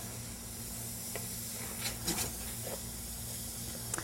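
Chopped onions and carrots sizzle softly in a pan as they are stirred and scraped, a faint steady hiss broken by a few light scrapes and clinks.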